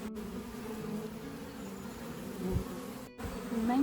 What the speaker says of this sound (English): You can see here quite a few worker bees who have been out